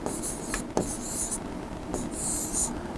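Marker or pen writing on a board during a live Python programming class, close scratchy strokes in short bursts separated by brief pauses, with no talking over them.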